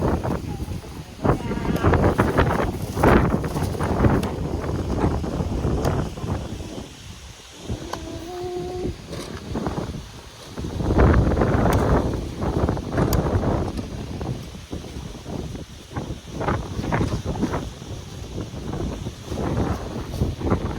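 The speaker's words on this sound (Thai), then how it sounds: "มีแต่ลมบ่มีฝนจ้า" Wind blows outdoors with no rain, buffeting the microphone in a continuous rough roar that swells and dips over about twenty seconds.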